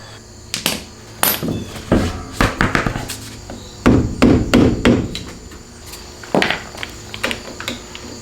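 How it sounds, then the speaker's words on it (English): Sharp metallic taps knock the dust cap off a Maxton roller skate wheel, coming in irregular clusters of quick strikes, close and loud, with brief pauses between bursts and no talking. "I'm gonna pull the dust cap off and see what it looks like in there"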